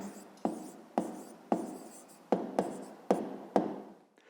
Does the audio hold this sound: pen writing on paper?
yes